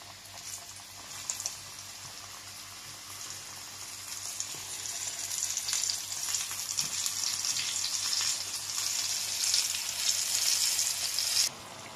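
Flour-dredged eggplant sticks frying in oil on maximum heat, a steady broadband sizzle that swells and grows louder midway and holds, with faint clicks of turning, ending abruptly.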